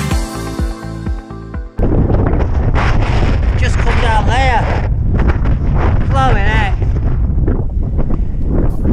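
Heavy, roaring wind buffeting the microphone on a steep Scottish mountain ridge, An Teallach, loud and constant, with a person talking over it after a brief burst of music at the start.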